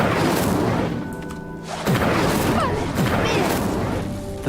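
Fire spell cast in Hogwarts Legacy: a sudden whooshing burst of flame with crackling impacts, repeated after a second or two, loud and close over busy game ambience and music.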